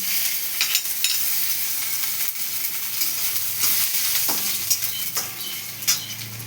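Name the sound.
chopped ginger frying in hot oil after asafoetida tempering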